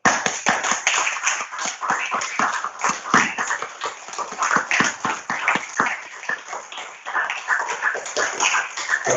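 People clap their hands in a steady, irregular patter of sharp claps, close and fairly loud, continuing throughout without a break.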